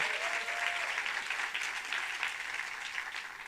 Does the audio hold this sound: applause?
yes